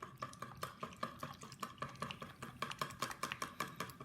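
Crêpe batter of eggs and milk being whisked in a bowl, a quick steady rhythm of light clinking and sloshing strokes, close and fairly quiet, with no talk.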